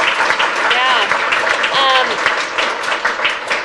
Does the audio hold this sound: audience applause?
yes